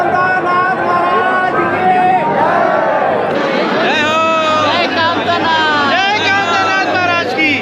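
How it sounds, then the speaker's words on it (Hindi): A large crowd of pilgrims fills the Kamadnath temple gate in Chitrakoot with a dense, continuous babble of many voices, close and loud, while an amplified announcement carries over the throng. "भीड़ अत्यधिक है"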